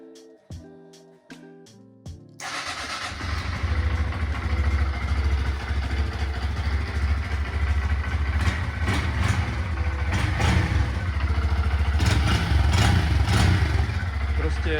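A motorcycle engine idles on its original exhaust in a workshop, a steady low rumble with mechanical clatter that runs loud and continuous after a few seconds of tapping and quieter sounds at the start.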